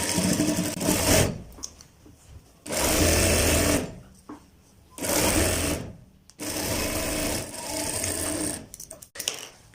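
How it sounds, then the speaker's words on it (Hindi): An electric sewing machine stitches the sleeve of a printed ladies' suit, running in four long loud bursts of steady rapid whirring with short pauses between them, close up and with no talking. "इसी तरह दोस्तों हमने अपना दूसरा बाजू पे भी सिलाई लगा लेनी है एंड तक"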